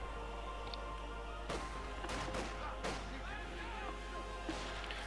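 Gunfire and sniper shots in the video game Company of Heroes 2, with several sharp cracks and bangs scattered over a steady battlefield rumble, moderately loud.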